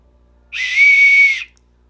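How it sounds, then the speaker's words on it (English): A small whistle pendant on a chain is blown once, giving a single steady, piercing tone that lasts about a second, loud and close, with silence before and after. "I wonder if it actually whistles."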